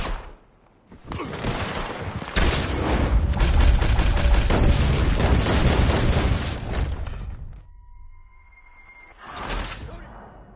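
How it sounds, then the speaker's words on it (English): A loud barrage of gunfire in the Western game Red Dead Redemption 2 rattles for several seconds in dense, overlapping shots, then cuts to quiet with faint tones before a final short burst. "Open fire on him!"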